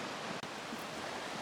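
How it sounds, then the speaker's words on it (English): A river flows in the background on a windy day, a steady broadband rush of water that fills the whole moment without a break, close and even in level. "You can see the river in the background."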